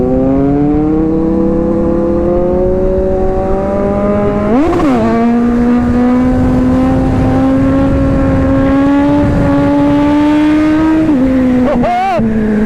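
A superbike engine, Kawasaki Ninja ZX6R, Z900 or GSX-S750, holds a loud, steady high-pitched drone with sharp throttle blips near the middle and at the end, close and dominant throughout.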